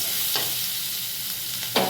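Vegetables sizzling steadily in a pan with spices, chopped chili and salt for egg pulao, a constant close hiss with two brief stirring scrapes.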